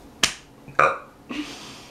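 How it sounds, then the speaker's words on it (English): Three short bursts, the middle one a low throaty belch standing out between sharper clicky sounds, close and fairly loud with silence between. "That was a burp."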